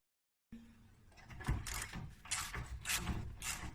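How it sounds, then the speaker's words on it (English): A bolt is worked loose on the front differential of a 2013 Can-Am Outlander 400 ATV, heard as a rapid, close ratcheting clatter. Repeated clicking bursts follow one another steadily, with no talking. "Just working this bolt out."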